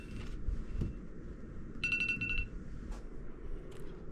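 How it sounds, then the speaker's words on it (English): An alarm clock rings in short bursts of bright electronic beeping in a quiet bedroom, with a few brief clicks and faint background noise around the rings. "Keep the alarm clock over there. That way I have to get up on my feet in order to turn it off."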